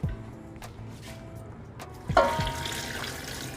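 Water poured into a pan of ginger garlic paste with chilli for chicken biryani, a short liquid splash arriving near the end over faint kitchen background, with no talk.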